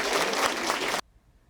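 People clap for each recipient at a certificate and award ceremony for a regional mothers' traffic-safety volunteer group. A short burst of dense applause stops abruptly after about a second.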